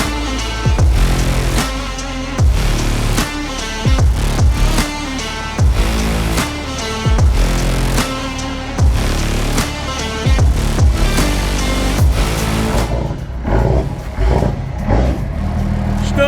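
A classic Dodge Ram pickup with a Cummins diesel engine runs loud and close, surging in repeated revs about every two seconds before easing to a lower, rougher idle near the end.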